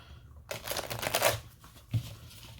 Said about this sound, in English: but I'm going to shuffle my cards.